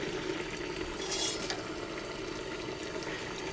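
Bacon added to a clam chowder pot with mussels and potatoes on a 1927 Quality range, stirred with a spoon through a steady simmering sizzle, a few brief scrapes and clinks close by, no talking.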